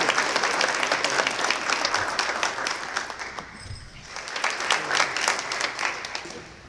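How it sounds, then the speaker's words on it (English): Steady audience applause fills a forum for state election candidates, dense clapping from a crowd holding an even level throughout with a brief dip midway before swelling again. "Let's give both of these guys a big round of applause."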